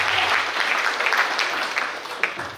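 An indoor audience at a meeting claps steadily and fairly loudly, with dense overlapping applause that thins slightly toward the end.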